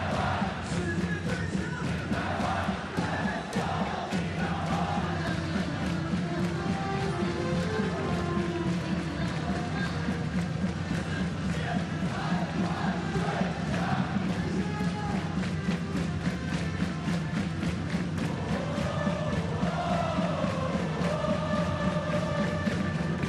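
A packed baseball stadium crowd roars and chants during a mound visit at the 2023 World Baseball Classic game between Italy and Chinese Taipei, a dense continuous din of yelling and cheering with scattered voices throughout.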